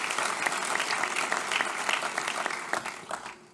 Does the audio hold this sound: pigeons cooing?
no